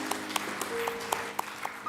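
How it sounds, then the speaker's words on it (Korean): Sparse, faint claps from a congregation during a Korean church Sunday worship service in Baltimore, a handful of separate sharp hand claps spaced unevenly over a quiet tonal background. "하나님께 영광의 박수를 올려드립니다."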